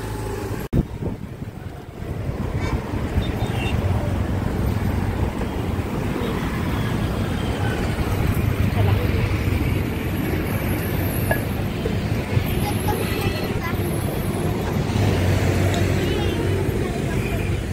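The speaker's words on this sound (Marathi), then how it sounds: "आता आमची गाडी निघालेली आहे" A car drives at a steady pace. The road and engine rumble is heard from inside the cabin, with wind noise throughout and voices talking now and then.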